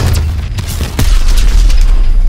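Cannon fire and explosions crash through a tank battle in the video game Call of Duty Advanced Warfare: a loud, continuous rumble punctuated by sharp, heavy blasts close by.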